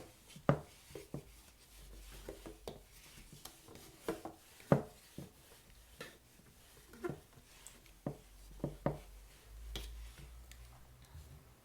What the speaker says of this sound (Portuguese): vou escrever algumas frases aqui